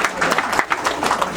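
Applause at an engagement ceremony, a short, fairly dense burst of clapping from a gathered audience, steady and close throughout with no talk over it.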